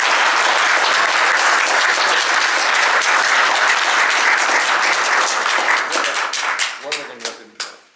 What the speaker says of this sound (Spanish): les pido que lo saludemos con un aplauso